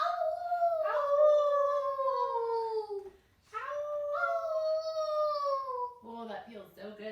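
A voice imitates a werewolf howl during a Halloween-themed kids' yoga session: two long, loud wavering howls sliding downward, then a short choppy yelping ending, close and clear.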